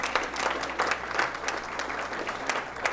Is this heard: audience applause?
yes